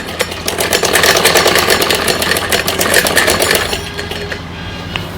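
Domestic sewing machine stitching a child's night suit, a fast, even mechanical clatter running close and loud for several seconds before slowing and easing to a quieter hum near the end.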